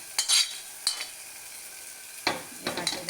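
Karchikai being stirred and fried in a pan, with sharp scraping strokes of a utensil against the metal over a soft continuous sizzle, a few separate stirring bursts near and clear.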